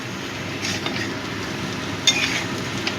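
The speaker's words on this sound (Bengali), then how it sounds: "এই আদা জিরে বাটাটা দিয়েও একটু ভেজে নেব" Ginger and cumin paste fries in a pan for a prawn malai curry, a moderate steady sizzle with a faint stir and a small metallic clink near the middle.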